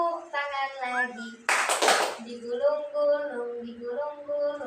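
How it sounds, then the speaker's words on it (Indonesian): A brief burst of hand clapping breaks in between sung or chanted speech, a few quick claps loud and close, with voices continuing before and after. "tepuk tangan lagi"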